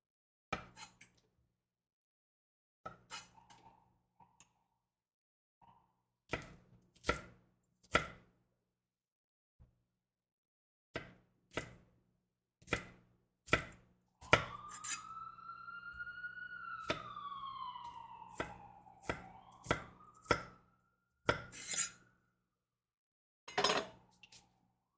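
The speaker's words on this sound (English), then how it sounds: "I'm just gonna trim these rough chop" A knife rough-chops vegetables on a cutting board in a home kitchen, a series of sharp, separate thuds in irregular bursts, close and fairly loud, with a brief rising electronic tone midway.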